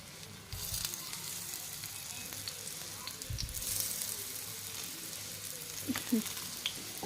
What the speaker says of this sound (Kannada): ಎಣ್ಣೆ ಬಿಸಿ ಆತ್ಪ ಅಂತಂದ್ರೆ ನಾವು ಇದನ್ನು ಅದ್ರೊಳಗೆ ಕರ್ಕೊಂಬಿಡೋಣ್ರಿ